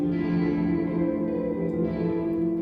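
Reverb wet signal from FL Studio's LuxeVerb with the high frequencies cut, a sustained dull, dark tonal wash held steadily throughout.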